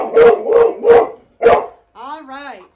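A Bernese Mountain Dog puppy, upset during training, gives four loud close barks in a steady rhythm, then a drawn-out whining yelp.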